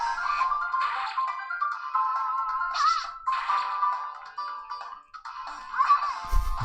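A mobile phone rings with a repeating electronic melodic ringtone in steady cycles, ending with a brief low thump.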